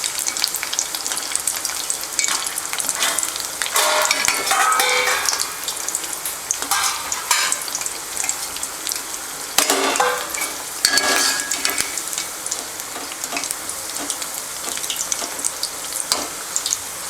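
Vada pieces for vada curry fry in hot oil with a loud, steady sizzle and crackle. Occasional stirring scrapes in the pan rise above it, with no voices.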